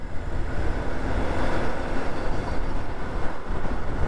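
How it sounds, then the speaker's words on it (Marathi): A truck hauling a trailer loaded with heavy machinery rumbles past on a highway, a loud, steady low roar with wind buffeting throughout. "अरे बाप रे, काय घेऊन चालला रे हा ट्रक"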